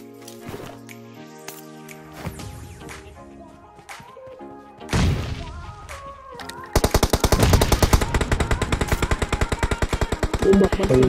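PUBG video game gunfire: scattered single shots and thuds at first, then a steady, loud, rapid automatic burst fills the last four seconds, with faint game sounds under it.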